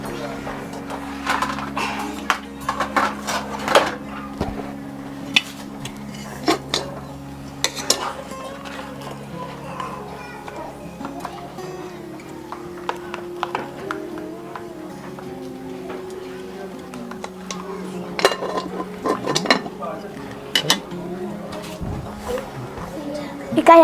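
Metal spoons tap and scrape on plates in scattered clinks while children eat a meal of sardines. The sharp, irregular ticks sound close, and several voices talk and chatter throughout.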